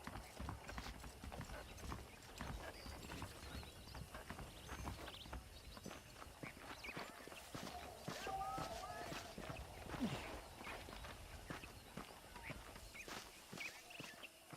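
Horse hooves clip-clop in the Western video game Red Dead Redemption, with a steady walking rhythm of soft, fairly quiet hoof strikes against a low ambient background.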